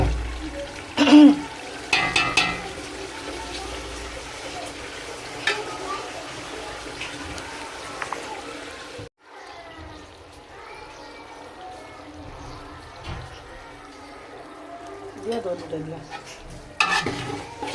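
Meat is stir-fried with spices for biryani, giving irregular scraping, clattering stirs and light sizzling in a pan, near and moderately loud, with a brief lull and a few louder knocks toward the end.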